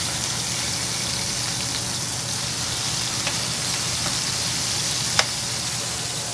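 Smash burger patties sizzle on a hot griddle with a steady hiss that lasts the whole time. A low hum runs underneath, and a couple of light ticks and one sharp scrape break in near the end.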